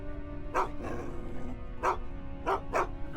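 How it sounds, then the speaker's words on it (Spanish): A dog named Shiva barks in sharp, separate yips, one and then three more over a steady low hum. The barks sound fairly close and no one speaks. "Shiva empezó a ladrar y a gruñir sin parar"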